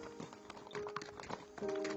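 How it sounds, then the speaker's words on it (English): Horse hooves clip-clopping as the horse is turned and ridden off, an uneven run of hoof strikes over a faint background drone, with no talk. "he turned his horse and rode off"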